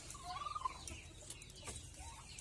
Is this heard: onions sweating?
no